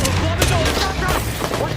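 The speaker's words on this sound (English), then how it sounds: "I'm shooting the man handcuffed to the bench." A burst of gunfire in a movie scene, a dense volley of shots mixed with a voice talking over it, loud and close with rumbling low end.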